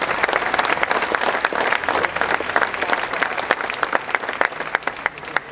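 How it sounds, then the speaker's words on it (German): Sustained applause from a large indoor audience at a German Basketball Federation press event in Berlin, dense steady clapping with sharp individual claps standing out, loud and continuous throughout with no talk. "dann haben die beiden Jungs natürlich auch einen dicken Applaus"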